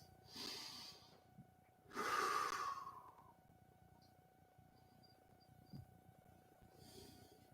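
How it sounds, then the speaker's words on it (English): Two deep breaths taken during a yoga stretching session, each a soft broad whoosh of air lasting about a second, with a quiet pause and faint room noise between them. "Nice deep breaths."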